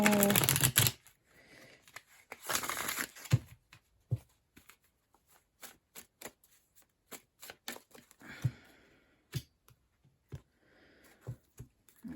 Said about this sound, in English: Give this one more shuffle.